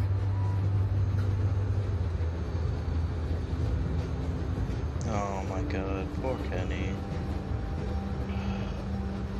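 A moving train in The Walking Dead video game rolls on with a low, steady rumble and clatter, while a voice speaks over it partway through.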